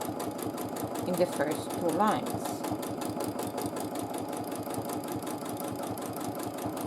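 A sewing machine doing free motion quilting runs at a steady mechanical whir and chatter throughout, close by, while a person talks over it.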